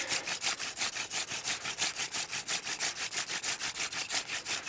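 Hand drill spindle grinding against a wooden fireboard in a steady, fast back-and-forth rhythm of rasping friction strokes, close and continuous with no talking.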